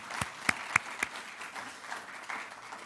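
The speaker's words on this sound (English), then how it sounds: "Should we give him an applause?" A lecture audience gives a short round of applause for a rabbi: a few sharp, distinct claps up front, then a scattered, quieter patter that tapers off.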